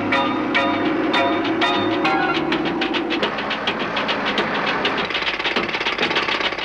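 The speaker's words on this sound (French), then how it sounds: "Les marteaux-piqueurs ne servent qu'à l'extérieur de la taille." Jackhammers break sandstone at Abu Simbel, a loud rapid train of sharp hammering blows over a steady mechanical drone, continuous and close.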